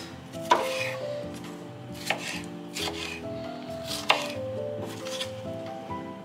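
A knife chops half a red bell pepper on a cutting board for a catfish pepper soup, sharp irregular taps against a soft background hum, close and without talk.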